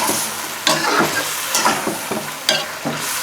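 Chicken karahi being stirred in a pan over a steady oily sizzle, with a spoon scraping the pan in repeated strokes about every second, close and fairly loud with no talking.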